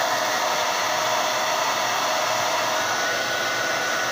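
A hair dryer blows hot air steadily and loudly at close range for several seconds, used with a round brush to restyle a mustache, with no voices over the constant whooshing roar.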